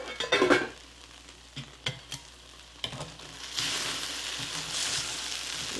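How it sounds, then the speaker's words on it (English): Onions caramelizing in a pan, sizzling steadily while a utensil scrapes and taps against the pan in several short knocks, with the frying hiss growing louder and brighter toward the end. "So I think my onion's almost caramelized."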